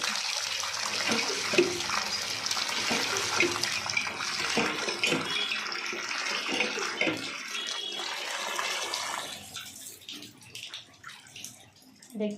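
Tap water runs steadily into a sink as freshly cut meat or fish pieces are rinsed clean, a continuous splashing wash that thins out near the end with a few brief drips and knocks.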